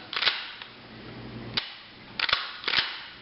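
Dry-fire trigger clicks from a Winchester Model 1200 pump shotgun during a function check after reassembly, a few sharp, close metallic snaps spaced irregularly over a quiet background with no talk.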